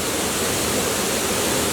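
The Kima Atas waterfall near Manado, Indonesia, gives off a constant, dense rush of falling water, steady and enveloping, with no other sounds standing out.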